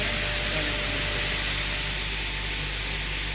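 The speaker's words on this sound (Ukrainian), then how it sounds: "Так, завершуємо вже молоти пшеницю." A feed mill grinds wheat for sow feed, a loud, steady mechanical whine and rush that holds constant throughout with no break.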